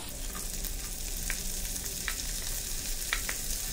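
Finely chopped onion fries in a pan with garlic, a continuous soft sizzle with a few light scrapes and clicks of stirring, fairly quiet and close, no voices.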